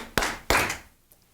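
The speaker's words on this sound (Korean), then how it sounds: "우리 박수 3번." A group of children clap together in unison during a Sunday school lesson: two sharp, loud claps close to the listener, then a much fainter third.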